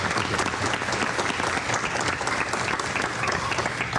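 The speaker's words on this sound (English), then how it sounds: "Please give a round of applause for the principal of this wonderful institution." A school audience gives steady applause for the principal of RESMS at a gathering with the governor: dense, continuous clapping from many hands, evenly sustained and slightly distant.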